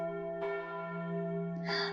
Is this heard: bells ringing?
yes